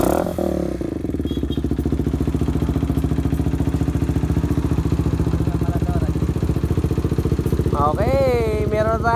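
A 400cc motorcycle engine with an open 61mm muffler idles loudly and steadily up close with a fast, even putter, then revs in a couple of sharp rising blips near the end.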